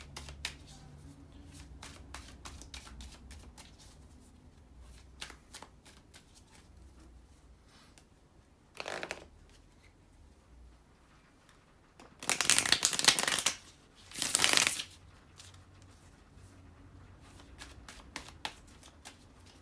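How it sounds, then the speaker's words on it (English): Tarot cards are handled and put back quietly, then two loud, close riffle shuffles cut through, each lasting about a second, with soft card taps before and after and no talking. "Just let me put the cards back and reshuffle."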